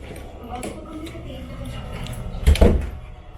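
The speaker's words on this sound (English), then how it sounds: "So that's the door lock been installed, the first one." A door with a newly installed lock at a bungalow build in the Philippines, with quiet shuffling before a sharp thud and rattle as it is worked and shut near the end.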